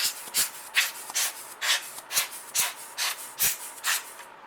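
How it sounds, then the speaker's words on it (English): Short repeated bursts of canned compressed air blow dust out of a PlayStation 2 console, about ten quick hissing puffs in an even rhythm, close and fairly soft. "We're just going to give it a quick little brush off with some burst air"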